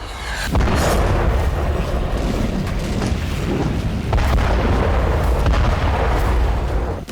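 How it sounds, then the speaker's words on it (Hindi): Rocket and missile strikes hit an area of western Iraq, heard as dense, sustained booming explosions that roll on loudly with heavy low rumble from start to finish. "ताबड़तोड़ अंदाज में आसमान से रॉकेट और मिसाइलों के प्रहार से पश्चिमी इराक का एक इलाका दहल उठा।"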